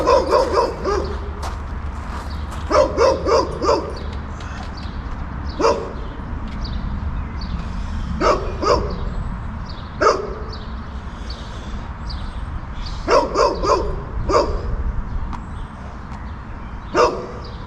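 A dog barks repeatedly in a park, sharp yips and barks arriving in irregular clusters separated by pauses, fairly close over a steady low outdoor rumble.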